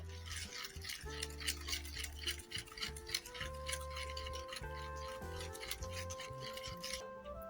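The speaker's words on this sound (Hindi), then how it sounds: "तो अब यहाँ पे मैंने शुगर पाउडर और घी मिक्स कर दिया है" Powdered sugar and ghee being stirred together in a bowl, giving rapid light ticking and scraping taps in an irregular rhythm, close, with soft music tones underneath.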